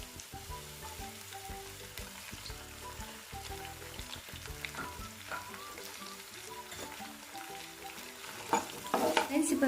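Sliced onions and a generous handful of curry leaves frying in an oily pan, a soft, continuous sizzle with scraping stirs, faint and close, growing louder near the end.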